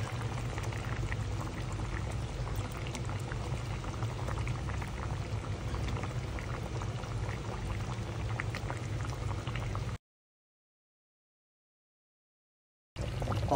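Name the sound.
coconut milk poured into simmering squash and string beans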